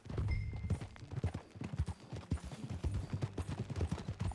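Horse hooves clop in a steady galloping rhythm during a ride in Red Dead Redemption 2, close and continuous for several seconds with no talking over them.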